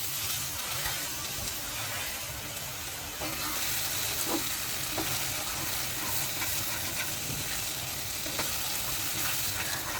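Eggs are fried and stirred in a spiced curry base with tomato in a pan, giving a steady close sizzle with scraping stir strokes throughout and no talking.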